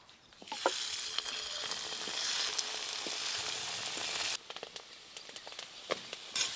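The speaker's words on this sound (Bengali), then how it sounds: "যা আছে এগুলো সব একসঙ্গে ভেজে নেব এবার।" Fish roe fritters sizzle steadily in hot oil, a dense close crackle that eases partway through as pieces are turned, with occasional sharp pops and utensil taps.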